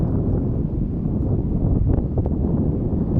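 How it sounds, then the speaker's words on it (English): Heavy wind on a bridge in Shizuoka, Japan buffets the microphone throughout, a constant low roaring rumble with no voices. "You probably hear a lot of wind right now."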